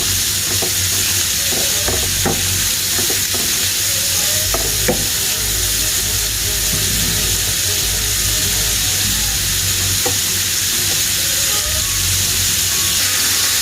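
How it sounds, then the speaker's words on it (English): Beef chunks sear in a hot pan for stroganoff, giving a constant loud sizzle and crackle with occasional stirring clicks and no talking. "So I'm going to let this sear for a little bit."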